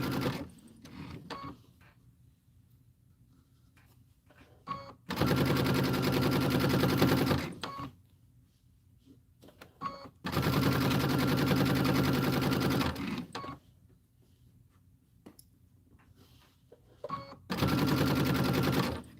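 A sewing machine stitches quilt fabric in three loud, steady bursts of about two to three seconds each, separated by quieter pauses with faint handling noises.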